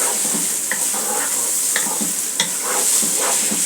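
Rice and onions frying in a pot for bhuna khichuri, a dense steady sizzle close by with scattered scraping knocks of a spoon stirring through it, no voices.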